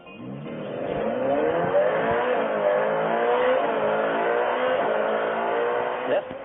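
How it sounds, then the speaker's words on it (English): A Ferrari SF90 Spider engine revs loudly and steadily, rising in pitch with a rich metallic harmonic tone, close and sustained for several seconds. "Low revs, basses, high revs, soprano, thrilling, metallic sounds"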